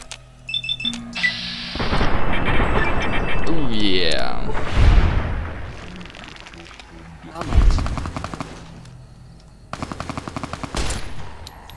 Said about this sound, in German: Wer ist denn da oben und schießt?